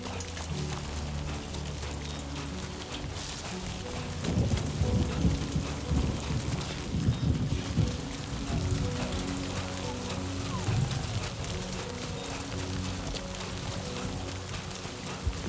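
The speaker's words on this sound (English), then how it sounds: "Great. Rain. Gotta move." Steady rain falls on a surface throughout in the video game Death Stranding 2, with a dense, even patter and a low rumble underneath, no voices.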